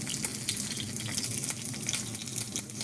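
Keto onion rings fry in a pan with a steady, crackling sizzle, close and continuous with little pops throughout.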